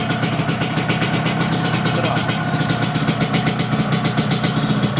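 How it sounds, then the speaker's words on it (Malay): A newly finished motorcycle idles steadily up close at night, its engine running in an even, continuous rhythm with a faint pulsing throb and no revving. "Bunyi motor baru"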